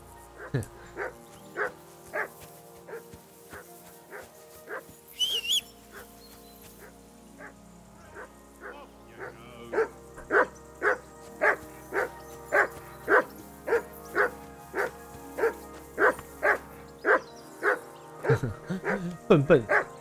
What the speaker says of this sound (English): Jesus, Henry, that barking's driving me nuts